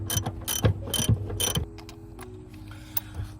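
A hand socket ratchet clicks rapidly in short bursts while loosening short bolts on a car, close and crisp, with a few quieter stray clicks after it stops.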